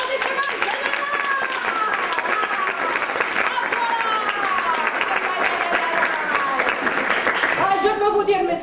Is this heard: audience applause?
yes